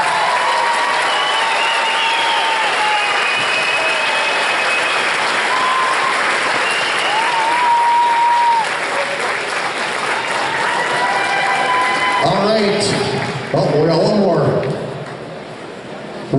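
Loud, sustained applause and cheering from an indoor crowd at a youth lacrosse championship recognition ceremony, continuous clapping filling the room with voices rising through it before tapering off near the end.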